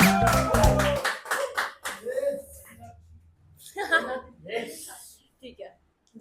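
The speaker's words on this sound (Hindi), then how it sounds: "तो एक बार जोरदार तालियां साक्षी के लिए।" An audience at an office roast show claps loudly for Sakshi in a dense burst of hand claps that fades within the first second, followed by talking and a few scattered chuckles.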